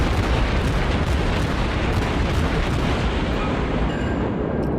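Heavy naval gunfire in World of Warships slamming into a cruiser, a dense continuous barrage of booming blasts and rumbling impacts, loud and close with no pauses.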